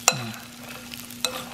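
Adobong mani peanuts being stirred while cooking in a microwave, two sharp clinks of a utensil against the dish with a soft sizzle between them, close and quiet, no talking.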